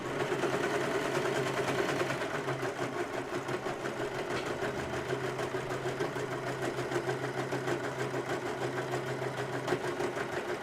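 An overlocker sewing machine runs continuously at a steady pace, its fast rhythmic mechanical chatter and hum sounding fairly faint but uninterrupted, with no talk over it.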